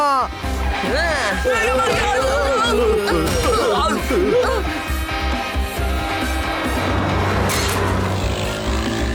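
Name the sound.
bus driving fast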